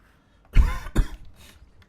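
A single close, harsh cough, two quick throaty bursts followed by a brief fading breath.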